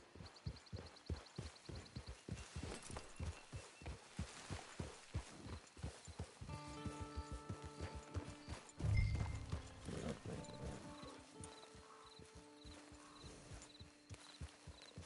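Steady clip-clop of horse hooves trotting in a video game, in a regular rhythm, joined midway by a layer of sustained musical tones.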